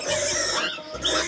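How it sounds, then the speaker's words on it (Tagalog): A mother pig grunts and squeals in short, close bursts, harsh and broadband, with a brief pause midway before another grunting burst. "Galit si Mama Pig."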